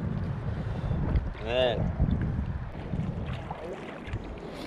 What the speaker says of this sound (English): that was by far the strongest wind I've ever paddled in